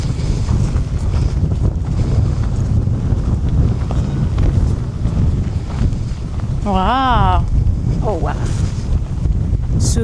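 Strong wind buffets the microphone in a steady, rumbling roar, and a voice briefly speaks over it near the end.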